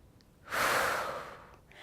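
A single long exhale during a core exercise, a soft airy breath that swells in after a quiet moment and fades slowly, close and alone.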